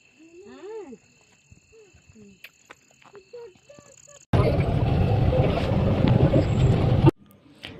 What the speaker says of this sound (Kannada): ಅದಕ್ಕೆ ದೋಣಿ ಅಂತಾರೆ